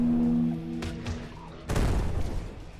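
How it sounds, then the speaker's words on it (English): In the shooter game Gone Viral a rocket launcher explodes: a heavy booming blast near the end follows earlier softer thuds and a low tonal hum, with no talking over it. "Yes, rocket launcher."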